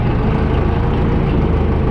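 A 4.8-litre diesel tractor engine runs steadily during a sunflower sowing campaign, a loud, dense, unbroken low rumble with no pauses.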